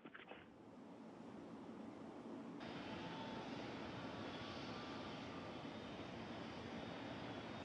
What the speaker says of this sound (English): Space Shuttle carrier aircraft with Endeavour strapped atop coming in for its landing at Ellington Field